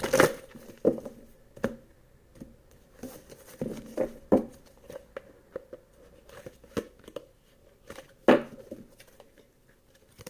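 Tarot cards are shuffled by hand in soft, irregular papery riffles and taps, close and fairly quiet.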